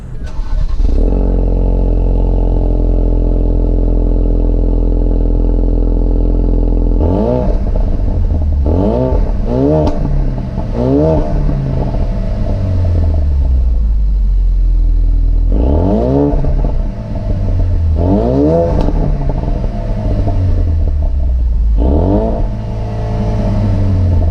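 A Ford Focus RS engine, not fully warmed up, idles steadily, then is revved several times, each rev rising and falling back to a deep rumbling idle through the exhaust, loud and close.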